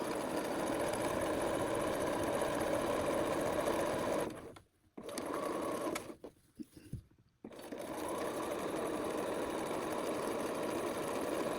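Sewing machine stitching a scrap-fabric zip bag, running steadily and loudly, stopping briefly twice for pivots with short bursts in between, then resuming a continuous whir.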